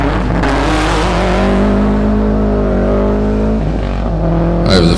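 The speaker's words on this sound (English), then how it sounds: "Mark Povey now making his way around the hairpin" Hillclimb race car rounding a hairpin, its engine loud and close as it holds a steady, slightly rising note through the bend, then briefly dips and picks up again at the end.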